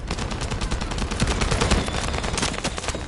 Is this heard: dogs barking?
no